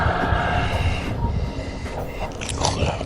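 A passenger train runs steadily along the tracks with a continuous close rumble and rattle, evacuating people from an infected zone, with rising whining tones toward the end.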